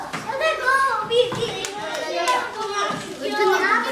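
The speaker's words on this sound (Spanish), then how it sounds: "un aplauso para Nuria." Schoolchildren clap for Nuria, a fifth-grade classmate, in a school setting. The clapping is scattered and uneven, mixed with lively kids' voices and chatter over it.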